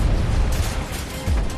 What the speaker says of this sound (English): The sub is rocked as explosions detonate.